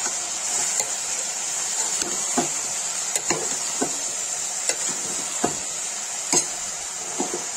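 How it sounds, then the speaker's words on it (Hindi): Red chili and turmeric frying in oil in a pan, a constant hissing sizzle broken by repeated sharp clacks and scrapes of a spoon stirring, close up, with no voices. "मैंने इसे लाल मिर्च हल्दी डाल दी है, तो इसको चला देंगे।"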